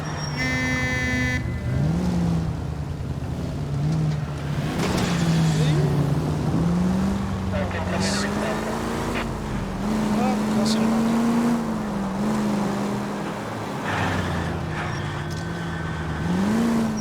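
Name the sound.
car pulling out of a driveway in the video game LA Noire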